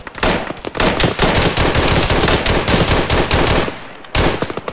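Sustained automatic gunfire in the video game Arma 3, dense rapid bursts close and loud for several seconds, with a brief gap near the end before firing resumes.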